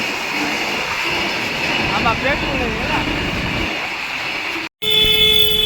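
Goods train rolling past a closed level crossing, a continuous rumble of wagons nearby with a brief horn-like tone midway, someone speaking over it, then a short break before the rumble resumes.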